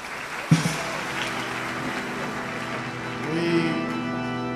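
An audience claps for the ordaining bishop at a priestly ordination, a sustained wash of applause in a reverberant hall with a tonal hum underneath, swelling slightly toward the end.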